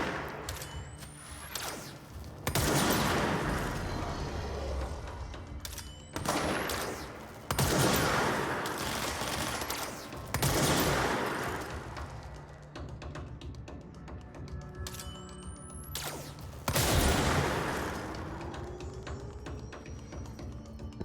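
In the game Control, gunfire arrives in repeated heavy bursts every few seconds with booming impacts and ringing tails, over a steady low ambient drone.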